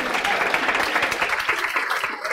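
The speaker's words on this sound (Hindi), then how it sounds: "एक बार ताली बजा दीजिए" A class of students applauding during a CA Intermediate Accounts lecture, loud continuous clapping from many hands that runs for a couple of seconds with no break.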